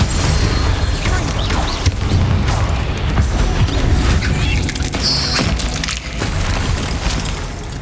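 Hogwarts Legacy video game Confringo explosive spell blasts, with loud booming impacts and crashing debris layered over busy in-game combat noise, continuous and dense across the stretch with no talk.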